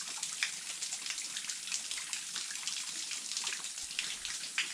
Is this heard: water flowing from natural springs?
yes